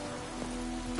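Rain falls steadily in The Witcher 3: Wild Hunt, a continuous hiss of drops on the ground over a faint low hum.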